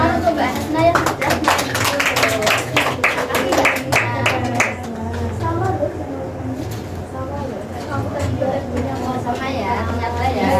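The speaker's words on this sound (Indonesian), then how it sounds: "Tepuk tangan untuk Mbak Hasna yang sudah" Classroom applause for a student: a burst of many hands clapping for a few seconds, then fading into a mix of voices and room noise as talk carries on beneath.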